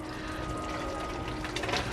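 Water poured into a pot of spicy Sinhala chicken curry, a steady liquid splashing and filling sound lasting throughout, close and moderately loud with no talking.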